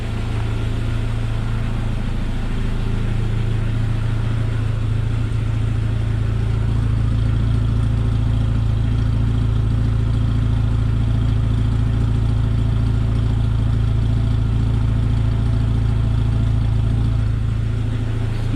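Jeep Wrangler TJ engine fitted with new injectors, heard from the rear, idling steadily and smoothly with a constant low hum and no speech.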